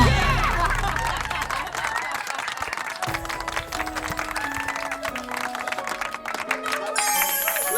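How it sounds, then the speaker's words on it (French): A theater audience applauds a contestant at an evening ball competition, a dense wash of clapping with crowd noise that runs the full length, while music and background voices come in under it toward the end. "Applaudissons notre premier candidat."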